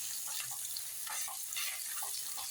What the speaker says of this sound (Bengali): আমার আদাটা একটু ভাজা ভাজা হয়ে গেছে।